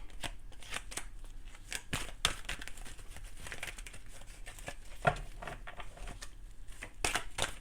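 Tarot cards being shuffled by hand, a continuous close run of soft riffling, sliding and slapping card noises with occasional sharper snaps, steady and moderately quiet throughout.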